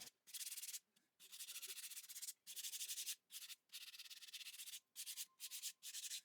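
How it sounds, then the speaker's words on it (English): A sanding sponge rubs lightly over the ridges of a plaster-mud-coated vase, giving repeated close scratchy strokes in bursts with short pauses between them. "I took a sanding sponge and lightly sanded the ridges just to knock off any of those sharp spots."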